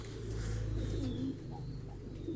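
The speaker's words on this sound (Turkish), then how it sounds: "Arkadaşlar burada da oyun kuşları var." Pigeons, mostly Mardin birds, coo in a breeder's loft in Karacabey, Bursa, a low, steady, rolling murmur from several birds mixed with a constant background hum.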